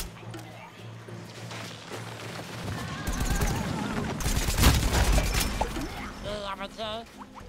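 Walnut cannons fire a rapid burst in Plants vs. Zombies: Battle for Neighborville, loud and chaotic, layered with crashes and synthetic effects, with speech-like sounds mixed in.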